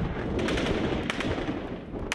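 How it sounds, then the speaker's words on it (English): Gunfire in a city battle in Misratah, Libya, between rebels and Gaddafi troops: rapid, repeated cracks of shots rattle over a dense, rumbling background. "The Gaddafi troops inside the city are supported by intense shelling from those camped on the outskirts."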